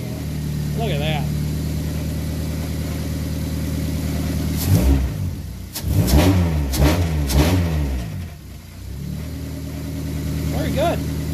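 A Dodge Neon engine runs after a throttle body replacement, idling steadily near by, then revving in several sharp bursts before settling back to idle.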